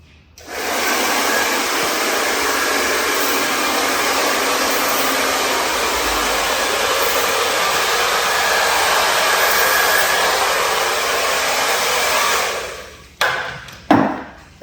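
A handheld hair dryer blows steadily while a short haircut is styled and finished with flexible-hold spray, a loud continuous rushing whoosh for about twelve seconds before it cuts off, followed by a couple of brief clicks and knocks.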